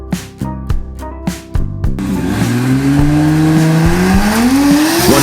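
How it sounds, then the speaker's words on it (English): A diesel truck in a burnout contest at the four-wheel jamboree in Lima, Ohio, gives several sharp revs, then holds a loud, rising engine roar with tires spinning and squealing, close and dominant. "The Burnout contest that day wasn't just loud, it was explosive."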